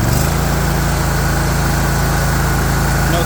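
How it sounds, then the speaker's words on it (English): A Hustler Raptor zero-turn lawn mower engine runs steadily at high revs, a loud close drone holding constant throughout with no talk. "I'll rev it up for you."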